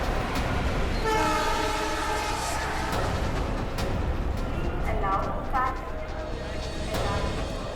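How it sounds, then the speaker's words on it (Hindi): An express train pulling into a busy Indian railway platform, a long sustained horn sounding over the heavy rolling rumble of carriages and station noise, loud and close throughout. "मुंबई से दिल्ली जाने वाली पश्चिम एक्सप्रेस प्लेटफॉर्म नंबर 3 पर आएगी।"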